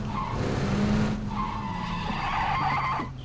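In PUBG, a car's tires squeal loudly and steadily as it drifts, layered over a low engine drone for about three seconds before easing off slightly at the end.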